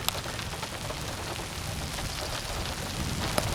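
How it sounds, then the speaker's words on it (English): Rain falls steadily during a tornado storm in Harper and Sumner County, Kansas, giving an even, continuous hiss close by with no talk over it. "It's raining here now."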